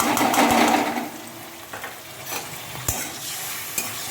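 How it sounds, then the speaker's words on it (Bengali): Ginger-cumin paste and masala sizzle in a pan, loudest at first and then easing off, with intermittent scraping and clacking strokes of a spatula stirring close by. "ভালো করে মশলাটা আমি কষিয়ে নেব"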